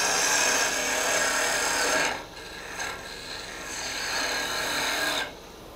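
A hand tool shaves and carves wood into a mushroom shape, giving close, dry rasping strokes, one long push followed by shorter, softer scrapes.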